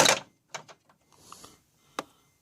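A ratchet loosens intake manifold bolts on a Mercedes, giving a few sparse, close clicks and a short run of ratcheting separated by quiet gaps.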